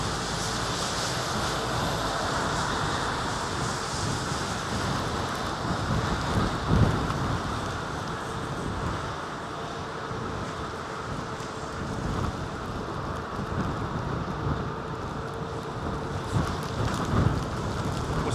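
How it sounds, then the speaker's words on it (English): A heavy rain shower pours at London Heathrow Airport as a dense, steady hiss with gusty wind, filling the scene continuously with no talk. "It's an absolute shower."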